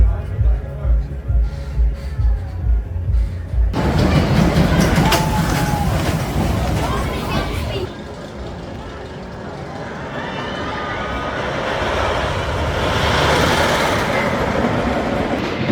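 Megafobia wooden roller coaster running at night: a rhythmic clickety-clack of the train climbing, then a loud rushing roar as it races along the wooden track, with riders' voices mixed in throughout.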